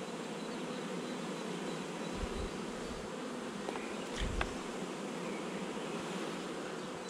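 Honeybees buzz steadily close by during a spring swarm at a home hive, with drone frames being lifted out; a dense, continuous hum holds throughout, broken by a few brief handling knocks.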